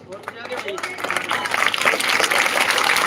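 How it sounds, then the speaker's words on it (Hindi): Clapping from a crowd at a welcome event for sports medalists swells and grows louder, sustained applause with a busy, noisy texture throughout. "इनके लिए जितनी तालियां बजाई जाए उतनी ही थोड़ी है"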